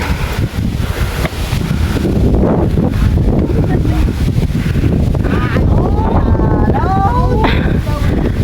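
Strong wind buffets a hillside at Picnic Grove in Tagaytay, roaring loudly against the microphone throughout while people talk over it.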